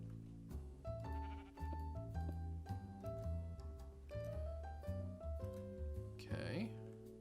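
Sheep in the video game Minecraft bleat repeatedly, several overlapping calls in close succession over a steady low musical drone.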